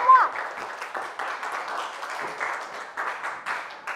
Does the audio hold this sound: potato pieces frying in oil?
no